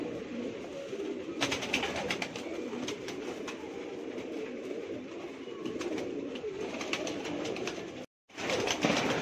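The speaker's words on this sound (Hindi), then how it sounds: "हमारे पास अब बजरे कबूतर है, और इलाहाबादी कबूतर है, सब उड़ने वाले कबूतर है।" Many Bajra and Allahabadi flying pigeons coo and flutter continuously at close range in Mumbai, a busy, layered murmur with soft wing noises, interrupted by a brief gap near the end.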